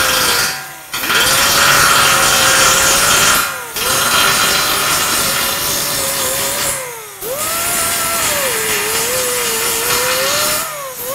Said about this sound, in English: So you start with a bigger tool like this and kind of start grinding that.